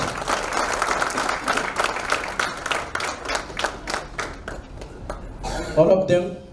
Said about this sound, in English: they deserve a big round of applause from all of you